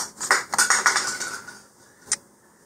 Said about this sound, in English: that was the sound of the nose cone hitting the floor